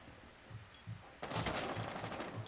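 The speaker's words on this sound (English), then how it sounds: "someone's shooting down from the trapdoor into the bathroom" In Rainbow Six Siege, shots fire down through a trapdoor into a bathroom. First come faint, spaced thumps, then a sudden burst of rapid gunfire that carries on as steady, muffled, repeated reports.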